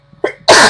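A character in The Sims 2 sneezes once: a short intake of breath followed by a loud, bursting sneeze with a sharp hiss, alone and close.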